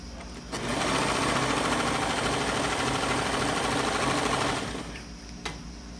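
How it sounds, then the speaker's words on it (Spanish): An overlock serger stitches fabric pieces for a princess-cut blouse, running in one loud, steady, close-up burst of about four seconds before slowing and stopping, with no talk. "Hay que procurar pasar el overlock bien al filito, pero que agarre la tela"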